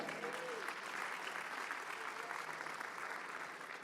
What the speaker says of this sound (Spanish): den un gran aplauso al Señor